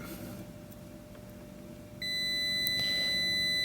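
A multimeter emits a steady continuity beep while its probes test the pins of a refrigerator compressor. The tone starts partway through and sounds clearly over a faint background hum, with no talking.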